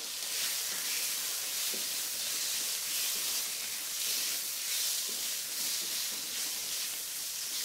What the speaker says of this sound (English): Sizzle it. I want to throw in the prawns,